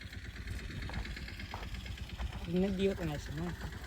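A mini tractor engine runs nearby on a farm with a steady, rapid chugging idle, while someone talks over the engine noise.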